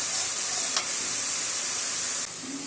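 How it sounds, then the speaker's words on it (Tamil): Onions sauté in a pan for goat lung gravy with a steady, loud sizzling hiss that carries on without pause, dropping slightly in level near the end, and no talking. "வெங்காயம் வதங்கட்டும்"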